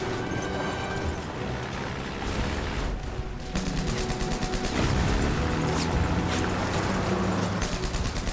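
Dense, continuous rumble of battle with German artillery and small arms fire, sharp bursts of gunfire and heavy blasts layered over a churning engine, loud and close throughout.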